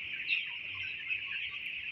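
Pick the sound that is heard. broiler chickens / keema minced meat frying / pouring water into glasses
broiler chickens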